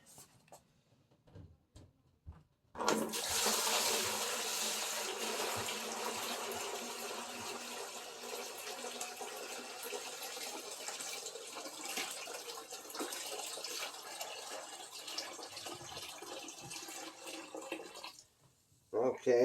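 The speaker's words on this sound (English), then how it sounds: "I'm going to throw all this water in that bucket" Water is dumped from a container into a bucket during a tile backer board waterproofing test, a loud continuous pour and splash lasting about fifteen seconds, starting abruptly and tapering off near the end.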